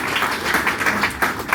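An audience at a community health center branch opening gives a round of applause, a dense wash of clapping heard close and moderately loud for a brief moment.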